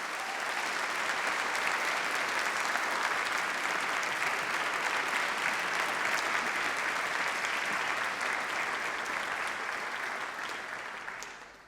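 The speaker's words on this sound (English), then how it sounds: "can we have a rousing Mancunian round of applause, please" Sustained applause from a large graduation ceremony audience at the University of Manchester, a dense steady roar of clapping that holds evenly for about eleven seconds before tapering at the end.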